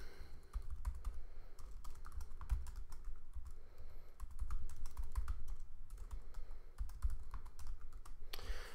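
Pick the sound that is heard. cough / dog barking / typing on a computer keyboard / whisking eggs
typing on a computer keyboard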